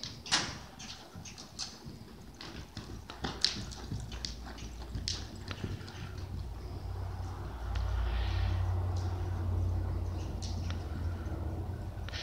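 A horse walking in an outdoor riding ring during a lesson, hooves thudding in a steady clip-clop with a low rumbling background noise and little talk.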